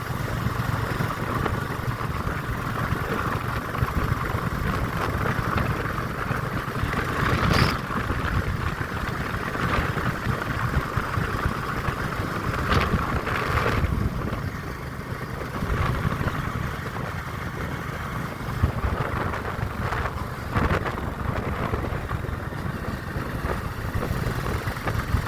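A motorcycle engine drones steadily while the bike rides on a rough road between Guwahati and Shillong, a continuous close hum with wind rush and a few brief knocks and rattles.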